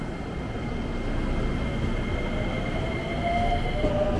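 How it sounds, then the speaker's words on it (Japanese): A JR 321 series seven-car electric train rumbles steadily nearby at Itami Station, with a continuous low roar and faint whining tones as it runs past. "321系電車です"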